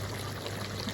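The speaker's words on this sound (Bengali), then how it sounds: "এখন আমি এদের মধ্যে পরিমাণ মতো পানি দিয়ে দিব" Water pours into a pan of duck curry, where the duck has released its oil, with a close, continuous rushing stream that is fairly loud and brief, with no talk.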